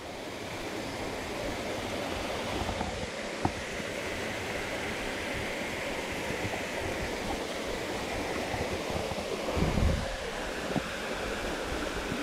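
A waterfall gives a constant broad roar of falling water that holds steady the whole time, with a few faint knocks and a soft low thump near the end.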